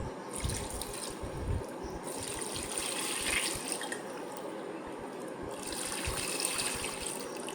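About a bottle of cold water is poured into a pot while ghee is being made at home, a continuous close splashing gush with uneven surges and small knocks.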